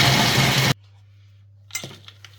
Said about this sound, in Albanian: Kemi marrë një grirëse elektrike dhe tani do grim arrat.